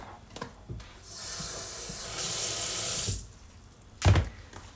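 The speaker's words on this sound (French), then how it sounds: "je vais rajouter un petit peu d'eau" Tap water runs steadily into a container to wet mops for household cleaning, a broad hiss that swells louder partway through and then cuts off, followed by a brief clunk.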